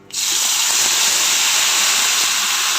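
Buttermilk vada curry gravy in a pan bursts into a loud, steady, hissing bubble that starts abruptly and holds evenly for nearly three seconds, close and alone.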